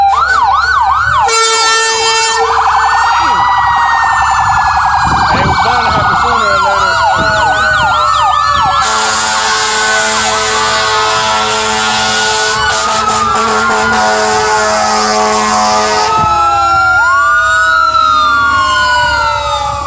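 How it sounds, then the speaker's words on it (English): Emergency vehicle sirens pass close by on a city street, loud wailing and yelping tones shifting and overlapping with bursts of an air horn, while people talk underneath. "We're gonna let this siren go by."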